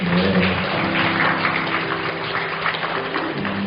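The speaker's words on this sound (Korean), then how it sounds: "우리 하나 집사님 또 축복하면서 박수했으면 좋겠어요" A church congregation applauds a deacon during Sunday worship, a dense, steady wash of many hands clapping together that continues unbroken over a low background hum.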